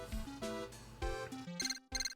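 Electronic beeping from a transceiver in the Ace Attorney: Justice For All video game, a short run of bright, pitched chirps in a rising and falling pattern, close and clear with no talk.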